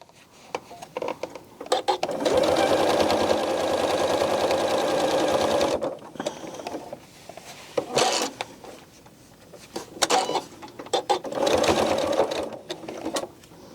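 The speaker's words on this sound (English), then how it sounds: "I'm going to leave my needle down, raise up my presser foot, and spin my quilt." A sewing machine stitches binding onto a quilt in loud, close bursts of rapid whirring, with pauses between runs.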